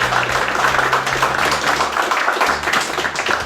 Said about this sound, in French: ce qu'on peut faire, on peut l'applaudir, notre ami Paul Schmitzer